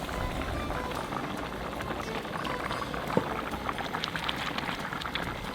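Lentils for Lebanese mjadara simmer in a pot of water, giving a continuous soft bubbling hiss with scattered faint pops and ticks and no voices.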